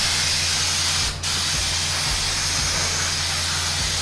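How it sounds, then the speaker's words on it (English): Aerosol brake cleaner sprays in a steady, loud hiss from an automotive parts can, close by and continuous apart from a brief pause, with a low mechanical hum underneath and no talking. "Brake cleaner."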